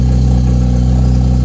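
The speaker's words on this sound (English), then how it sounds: "So if I fire the car up, let's fire it up and put it in sport mode" A 2025 Porsche 911 GTS (992.2) idles in sport mode just after start-up, a steady close low engine drone with a constant rumble and no revving.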